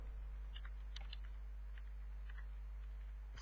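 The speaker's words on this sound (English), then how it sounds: "Here I'm just typing" Keys on a computer keyboard tap in short irregular clusters, faint and close, over a low steady hum while a profile field is typed into a CMS.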